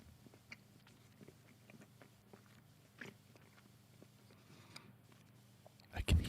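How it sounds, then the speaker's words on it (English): A person chewing food close to the microphone: soft, irregular wet clicks and small crunches over a faint low hum, ending in a louder bump. "I can hear you fucking chewing."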